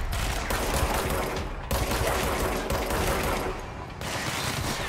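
Rapid automatic gunfire from the player's weapon in the video game Control, sustained loud bursts with brief gaps between them and no talk over the shooting.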